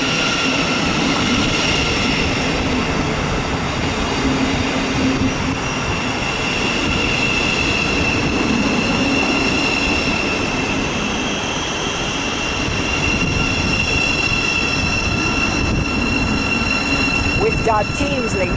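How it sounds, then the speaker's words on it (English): Thameslink Class 700 electric train, unit 700034, passing through Mill Hill Broadway station: a loud, sustained rolling roar of wheels on rails with a thin metallic squeal toward the end. "With our Thameslink service going to Luton from Rivernova."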